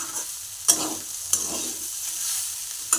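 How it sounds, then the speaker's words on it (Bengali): Yardlong beans stir-fried with salt in a pan: a continuous soft sizzle broken by three sharp scraping strokes of a spatula, close and alone without voices. "এরকম একটু বরবটি ভাজা করে কিন্তু আপনারা দেখতেই পারেন"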